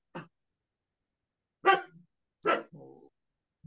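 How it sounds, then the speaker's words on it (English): A dog indoors gives a few sharp, separate barks spaced over a few seconds, each one short and close, against otherwise quiet surroundings. "My dog, now he is in my room."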